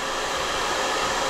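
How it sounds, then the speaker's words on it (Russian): A hair dryer on its first setting, powered by a Romoss RS 1000 power bank at a campsite in Turkey, blows with a steady, even whoosh throughout. "если вам экстренно нужен фен, то на первой передаче"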